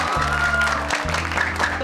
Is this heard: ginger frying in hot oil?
no